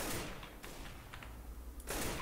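Faint, distant gunfire in the video game CS:GO: a couple of soft cracks with a low murmur between them and no talk.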